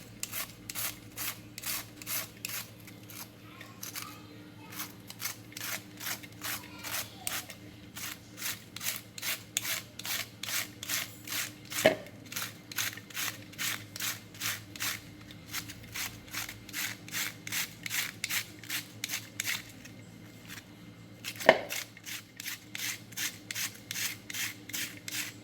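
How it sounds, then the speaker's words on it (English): A kitchen peeler scrapes cabbage for coleslaw in quick repeated strokes. Rapid rhythmic bursts come close and fairly loud, with a short pause partway through and a couple of sharp knocks on the board. "I'm going to change this peeler and use a different one"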